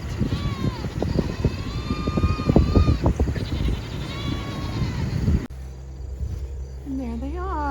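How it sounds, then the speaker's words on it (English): Goats on a hilltop farm pasture bleating and calling repeatedly in wavering cries, fairly close, over a bed of insect chirping, with a person talking through the first part before a quieter stretch of calls. "the goats are on top of the hill right up there. So as soon as we get here, they start yelling at us."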